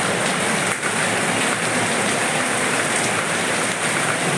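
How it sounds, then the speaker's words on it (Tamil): Heavy rain falls in a loud, dense, unbroken hiss that holds steady throughout, with no voices over it. "இன்னொரு மழை வருதுங்க, இன்னொரு மழை. இன்னொரு மழை பெய்ஞ்சிருக்கு பாருங்க"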